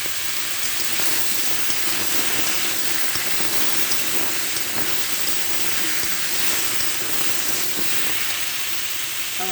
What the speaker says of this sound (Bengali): এবার তেলে আম দিয়েছি